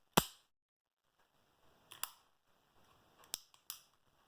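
A Beretta PX4 Storm pistol makes a few sharp, close mechanical clicks as its double-action trigger is pulled and the action is worked. The clicks come spaced apart, with short quiet gaps between them in an otherwise silent room.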